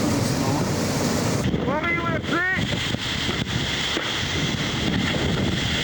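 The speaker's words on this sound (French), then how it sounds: "Avec 40 nœuds de vent, une petite mer qui se lève." Strong 40-knot wind roars steadily against the microphone over rushing sea aboard the Maxi Banque Populaire V, with a brief high creaking whine in the middle, like rigging straining.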